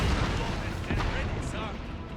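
Cannon fire in the video game Total War: Fall of the Samurai during the Battle of Hakodate: a dense, rumbling wash of booming shots under continuous battle din, with a voice talking over it.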